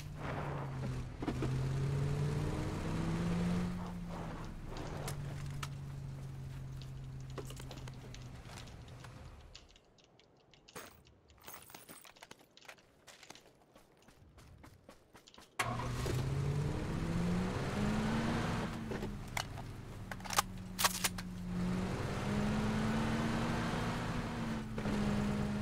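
A car engine in the PUBG video game drives with a steady mid-pitched drone that rises and shifts with revving, cuts out briefly in the middle, then resumes loud and close.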